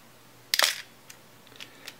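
A Nikon FG film SLR shutter fires when pressed with a soft release button, giving one crisp mechanical clack up close, followed by a few faint clicks as the release is handled.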